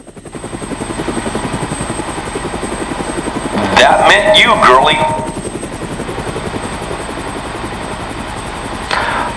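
Helicopter rotor thudding steadily overhead through the whole stretch, loud and close, with an amplified loudspeaker voice breaking in partway through.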